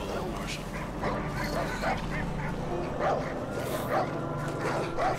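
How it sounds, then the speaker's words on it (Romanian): Dogs bark repeatedly in the video game Far Cry 5, a series of short yips and barks over a busy, noisy game soundscape with some voice mixed in. "Mamă, au și câini pe aici."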